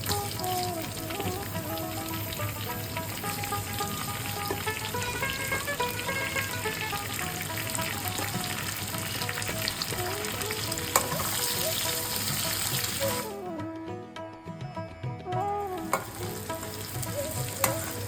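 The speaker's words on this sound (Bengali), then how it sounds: "এদিকে পেঁয়াজটা আমাদের সোনালী রং করে ভাজা হয়ে গেছে" Crushed garlic and chopped onion fry in a pan for a vetki fish-bone chorchori, a continuous close sizzle with stirring scrapes that briefly drops away near the end before resuming.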